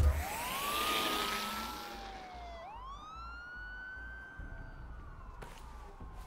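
Police car sirens wail in Batman: The Telltale Series, rising and falling in long sweeping tones. Several overlapping sirens sound moderately near before one steady wail carries on alone.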